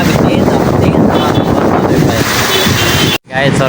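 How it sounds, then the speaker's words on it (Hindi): Strong wind buffets the microphone during a heavy rainstorm in Hyderabad, a loud continuous roaring rush that briefly drops out near the end, with a voice faintly mixed in. "हवा भी तेज हवा"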